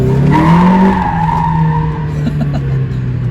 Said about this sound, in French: On va se faire le coup du tourniquet